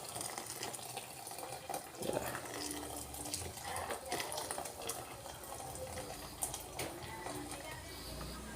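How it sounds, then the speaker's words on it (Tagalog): Hot water pours into a pot of boiling lomi soup with pansit bato noodles, a moderate splashing gush over a low simmer and kitchen clatter. "Tapos lagay pa tayo ng tubig na mainit mga kachamp."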